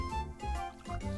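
Water is poured from a vessel into a cup, making a faint, short gurgling trickle in a few quick pulses.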